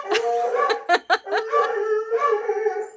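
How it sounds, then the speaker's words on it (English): A dog barks and bays excitedly as its owner comes home, a run of sharp close barks breaking into long howling, baying tones that stretch out to the end. "She'll stop barking when he walks in the door."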